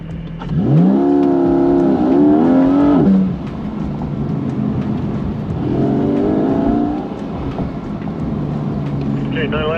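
A Porsche 718 sports car engine revs up with rising harmonic whine, accelerating strongly, fading, then a second rising engine pass follows more distantly; steady background rumble throughout.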